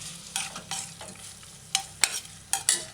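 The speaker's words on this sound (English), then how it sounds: "Use a spoon, stir in the ackee and saltfish." A spoon stirs ackee and saltfish in a pot over heat, producing several distinct scraping strokes and clinks against the metal over a faint sizzle, spaced irregularly and close up.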